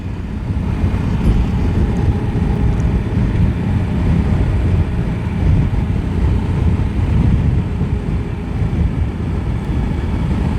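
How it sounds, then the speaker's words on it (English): A Suzuki V-Strom V-twin motorcycle cruising a winding canyon highway, its engine drone steady and loud under heavy wind rush throughout, without any speech. "it's really fun to have a V-twin like this that has torque pretty much in any gear"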